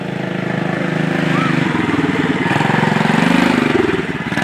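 A Yamaha TTR 125 dirt bike engine runs at part throttle with a steady, buzzing drone that swells slightly in pitch and volume, heard close with wind noise and a voice talking faintly underneath.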